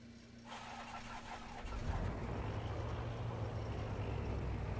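Aerostar 601P twin piston engine idling at about 1,000 RPM in a flight simulator, a steady low drone that steps up louder around two seconds in and holds evenly.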